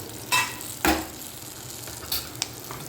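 Jackfruit seeds fry in a pan with a steady close sizzle, broken by a few sharp scraping stirs of a spatula at irregular moments.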